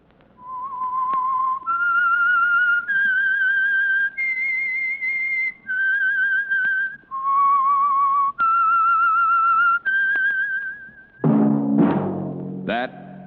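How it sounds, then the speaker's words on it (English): A lone whistler performs the eerie theme signal of The Whistler radio program, a slow sequence of clear sustained notes stepping up and down, ending with a short burst of orchestral sound. "That whistle is your signal for the Signal Oil program, The Whistler."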